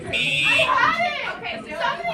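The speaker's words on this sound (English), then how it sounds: "Fire alarm" Middle school fire alarm blaring with a high, steady electronic tone throughout, loud and close, while voices chatter and call out underneath.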